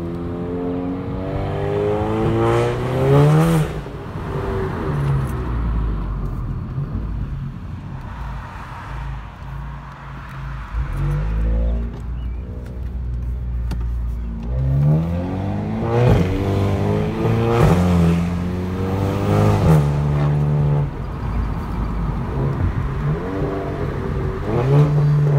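VW MK7 with a full aftermarket exhaust revving and pulling away, sharp engine rises with crackling overrun between gentler cruising stretches, loud and close over about twenty-five seconds, with no speech.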